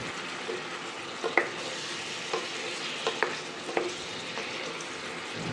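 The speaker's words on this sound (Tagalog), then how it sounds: "minimekos-mekos lang natin para ma-well combined yung mga lasa sa ating mga tokwa at sa ating pork" Pork and fried tofu stirred in a pan for adobong puti, with a soft continuous sizzle broken by scattered scraping clinks of the utensil against the pan, close by and without speech.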